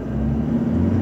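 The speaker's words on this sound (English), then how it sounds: "Full throttle." A brief, loud engine drone from an SUV on Michelin LTX Force all-terrain tyres as it accelerates at full throttle, with a strong steady low hum and no voices.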